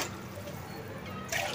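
Water poured from a lota into a pot for cooking rice in a home kitchen, a continuous close trickle and splash that grows briefly louder near the end.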